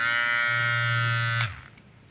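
Yandou rechargeable electric shaver running with the trimmer pushed out, giving a steady close buzzing drone that cuts off sharply near the end, leaving near quiet.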